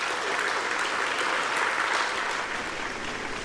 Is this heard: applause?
yes